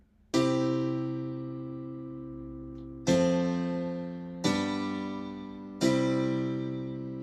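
Two M1 house piano parts from a Korg M1-style preset in a happy hardcore track, heard as four bright, sustained stabbed chords with sharp attacks, each ringing out and decaying before the next, close and clean with no voices.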